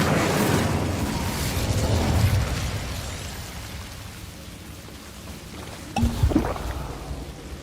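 An Incendio fire spell from the video game Hogwarts Legacy roars as a dense, rushing burst of fire that fills the opening seconds and slowly fades, followed by a sharp crackling impact near the end.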